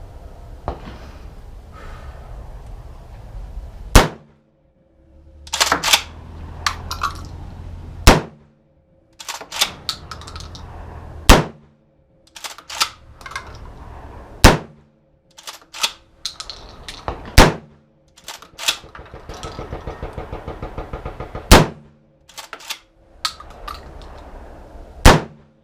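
Seven loud, sharp shotgun blasts from a Landor BPX902 ring out at irregular intervals, each followed by the clack of the action cycling and brief handling noise in between.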